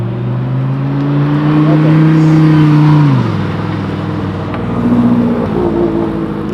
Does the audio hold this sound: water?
no